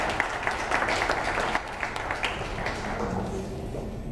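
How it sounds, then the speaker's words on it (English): A crowd claps steadily in sustained applause at a state representative candidate forum, dense and even, gradually thinning toward the end. "let's give yourselves a good round of applause for coming out"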